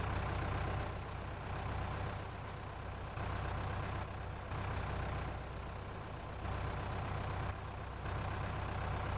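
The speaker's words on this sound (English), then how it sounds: "Hopefully we're not going to struggle too much, because this is our most powerful tractor that we own." Powerful 185-horsepower tractor engine straining up a hill in Farming Simulator 19, a steady low droning rumble that swells and dips in a slow regular rhythm, constant and unbroken with no talking.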